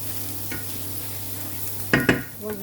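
Garlic frying in a pan before tagliatelle with champignon mushrooms, a low steady sizzle broken by a couple of sharp stirring scrapes near the end.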